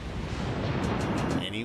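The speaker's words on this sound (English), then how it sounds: "There goes a salvo at the Georgia." A battleship fires a salvo at the enemy battleship Georgia in the naval combat game World of Warships: Legends, heard as a sustained, loud rumbling roar of heavy gunfire and water, with a few crackling bursts near the end.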